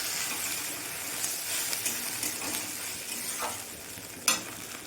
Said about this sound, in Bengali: যে আদা রসুন জিরে বেটে রেখেছিলাম দিয়ে দিলাম